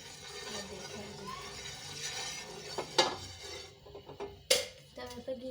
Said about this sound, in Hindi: तवे पे घी लग गया।